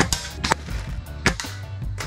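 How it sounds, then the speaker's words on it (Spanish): Several sharp gunshots crack out at irregular intervals at target bottles on a hacienda in Bejuma, Venezuela, each a brief broadband snap with a short tail over a low outdoor rumble. "le vamos a caer a tiros a las botellas"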